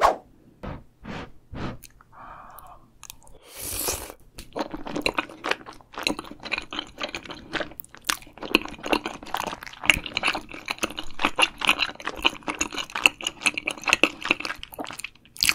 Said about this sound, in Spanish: Y hay gente que le gusta oír otra gente masticar esa comida